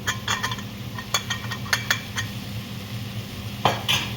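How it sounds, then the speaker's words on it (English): Clinks and scrapes of metal cookware, a lid knocked and lifted off a pot of biryani, over a faint sizzle and low background hum. "Now I'm opening up this lid and checking."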